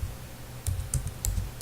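Several quick bursts of keystrokes on a computer keyboard while a project name is typed into a new dynamic web project, the clicks soft and close with short pauses between them.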